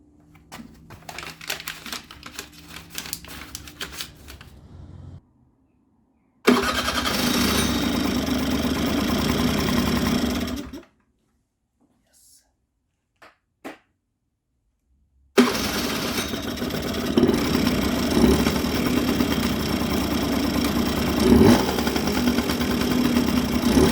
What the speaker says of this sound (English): Let's give it a try, see if we can get it to start.